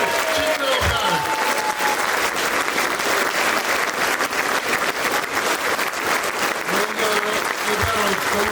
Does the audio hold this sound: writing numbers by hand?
no